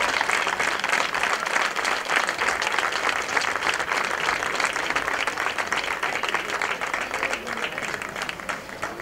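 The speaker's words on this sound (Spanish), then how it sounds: "Aplauso para recibirlo en el escenario." An audience at an evening recognition ceremony for a local barber applauds steadily to welcome someone onto the stage, a dense and loud wall of clapping that fades slightly toward the end.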